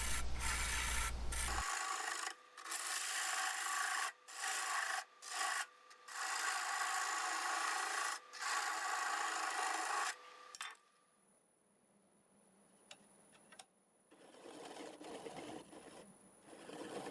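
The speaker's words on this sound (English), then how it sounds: "cut the nub off, and get it sanded up" Black walnut spinning on a wood lathe is sanded in loud, close bursts of broadband rubbing separated by short pauses, ending in a quieter stretch with a faint high whine.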